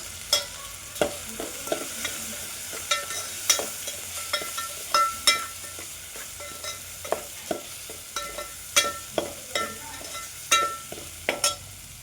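Masoor dal spices roasting in a pan with red chili powder, turmeric and salt, a soft background sizzle broken by repeated scraping strokes of a spoon against the pan at an irregular, steady pace.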